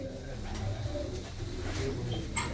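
Low, soft cooing from large female pigeons of a pure breed in a loft, steady throughout, with a brief louder rustle near the end.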